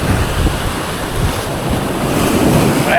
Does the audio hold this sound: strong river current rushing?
yes